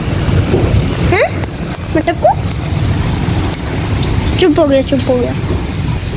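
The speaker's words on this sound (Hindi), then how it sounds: "आज इतनी ठंडी बारिश हो रही है ना" Cold rain falls steadily outside, a continuous broadband hiss under a dim, dark house, with a voice speaking briefly over it and a faint low rumble suggesting distant thunder.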